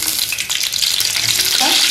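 Fenugreek seeds and green chilli fry in hot oil with a loud, dense crackling sizzle, close up and steady over a short stretch.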